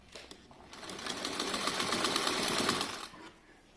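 A sewing machine stitches fabric for a yoga bolster made from blankets or throws, with a quiet, close, steady whirring run of about two and a half seconds that starts and stops cleanly.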